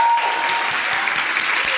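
A church congregation applauds loudly and continuously, a dense wash of clapping hands close by.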